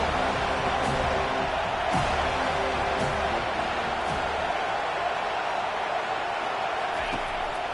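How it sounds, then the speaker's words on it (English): A steady roar from a stadium crowd in a college football video game, a constant wash of cheering noise underneath a commentator's voice, with faint periodic thumps throughout. "This crowd knows when to bring it."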